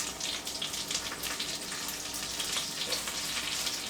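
Handfuls of zucchini, tomatoes and seasoning dropping into a hot pot, giving a steady soft sizzle and crackle with faint stirring, fairly quiet and continuous with no talking.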